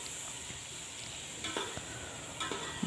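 Onion, ginger-garlic paste and tomato sauté in a pan for corn vegetable rice, giving a steady soft sizzle with a few light scrapes of stirring near the end.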